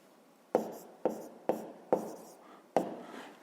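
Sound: writing numbers by hand

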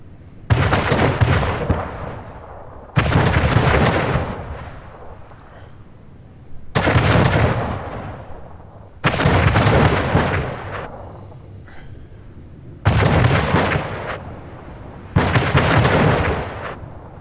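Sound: naval battle cannon fire in video game Anno 1800

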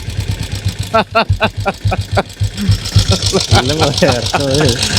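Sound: diesel motorcycle engine running, similar to a petrol Bullet

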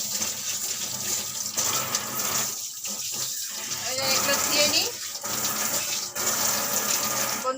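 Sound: water running while washing something at the sink

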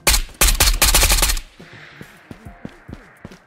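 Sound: gunfire from 9x39 gun, Ghosts of Tabor video game

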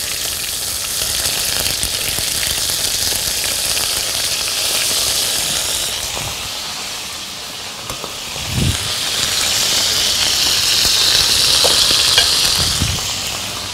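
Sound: duck breasts frying in a pan

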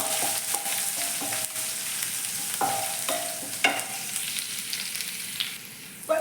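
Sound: ginger and garlic sautéing in a pan

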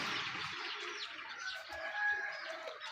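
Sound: chickens

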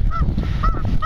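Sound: goose honking

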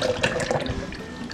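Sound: pouring evaporated milk into cheesecake mixture

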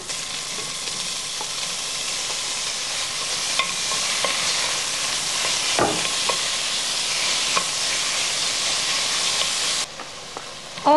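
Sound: beef added to sautéed onion and carrot, frying

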